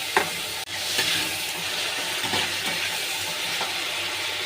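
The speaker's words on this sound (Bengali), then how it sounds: "নুন দিচ্ছি, আবারও নেড়ে চেড়ে নেবো" Bhola fish curry in a pan is stirred with salt over a steady, close sizzle, with a few soft scraping strokes and a brief clack near the start.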